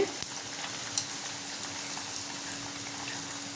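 Puris for halwa puri bubbling and sizzling in hot oil, a steady fizzing hiss with small crackles and a clink or two of a utensil, close up with no talking.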